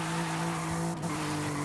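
A car drifts in the video game Forza Horizon 5, its tires squealing in a sustained screech over a steady engine drone, loud and continuous with a brief dip near the middle.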